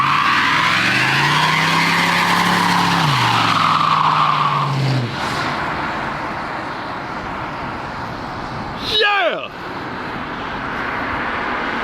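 A restored 1972 Chevrolet C10 truck spinning a single rear tire in a burnout: the engine wails up and down close by, then cuts off with a sharp tire screech near the end, and voices talk over it.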